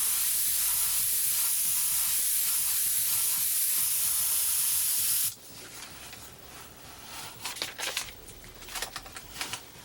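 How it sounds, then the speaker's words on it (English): Close airbrush spray of paint for shading: a steady, loud airy hiss runs for about five seconds, then cuts off, leaving faint rustling and soft handling noises. "I'm going to put that spray right through there again, nice wide spray"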